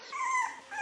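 Newborn French Bulldog puppies give a high, thin whimper, a close wavering whine followed by a second short squeak.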